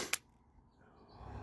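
Single sharp pop from a Byrna TCR launcher fitted with a modded 20 oz CO2 tank firing a nylon or aluminum round, a quick crack up close followed by quiet low rumble.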